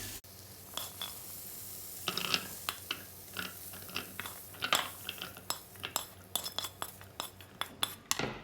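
Toasted spices for Balinese ayam betutu are ground by hand into a paste, making irregular close knocks and gritty scrapes that quicken toward the end with no talking.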